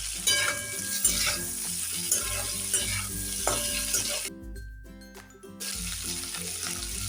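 Green chillies, chopped ginger, cashews and vegetables sizzle in a pan for matar paneer, stirred with regular scraping strokes and a brief quieter gap partway through, close up with no talk.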